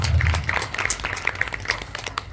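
Scattered audience clapping welcoming the saint Praveenram Maharaj at a Gujarati devotional gathering, a modest patter of hand claps, moderately close, over a low hum.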